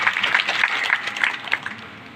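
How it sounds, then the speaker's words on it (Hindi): Audience applause welcoming Rajendra Gawai at a devotional discourse event, a steady wash of clapping that runs the whole stretch with a few louder bursts and fades slightly near the end. "एक बार राजेंद्र बाबू के लिए जोरदार तालियों से स्वागत है"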